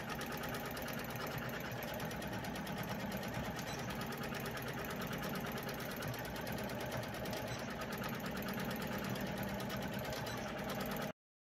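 A sewing machine runs steadily for about eleven seconds, stitching a visible mending patch back and forth over the worn knee of work pants, its rapid needle chatter and motor hum close, continuous and unbroken, then stopping abruptly.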